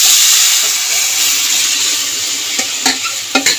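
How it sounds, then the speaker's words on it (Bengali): Moong dal with mixed vegetables bubbling in a pot, a steady loud hiss with soft stirring clatter and a few sharp clinks near the end, no voices. "ফ্রেন্ডস, ডালটা ফুটতে শুরু করে দিয়েছে"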